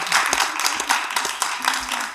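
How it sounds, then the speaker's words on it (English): Applause rises from the audience at a book launch and conversation on Japanese theatre, steady broadband clapping that runs the whole moment, moderately loud and fairly close, with a few faint voices mixed underneath. "Well, why don't you give him applause?"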